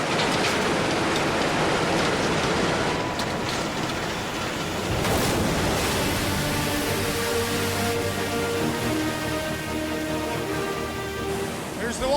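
Water gushes and splashes through a gold mining wash plant, a loud rushing roar with machinery droning underneath, shifting partway through as a low mechanical hum and tones build beneath the flow.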